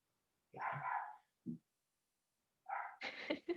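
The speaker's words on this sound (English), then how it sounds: "My dog is going nuts." A small dog barks sharply at someone at the door indoors, two quick yaps, a pause, then a louder cluster of barks, fairly faint and close.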